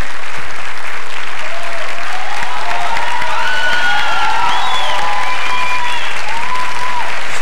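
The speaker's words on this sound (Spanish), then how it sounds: "Gracias por sus aplausos." A studio audience at a televised musical show claps continuously, a loud, dense wall of applause that holds steady throughout with faint cheering mixed in.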